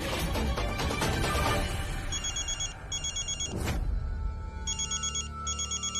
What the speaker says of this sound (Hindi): जया का फोन होगा